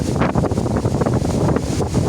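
Strong gusting wind at Mathagal beach on a rough sea day, loud and buffeting the microphone with rumbling surges, continuous throughout with the surf blended underneath.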